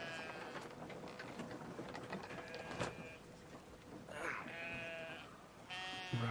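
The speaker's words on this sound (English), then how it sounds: "Grab a sheep." Bleating sheep cry out several times over a busy, noisy video game background in Brothers: A Tale of Two Sons, the calls fairly close and loud.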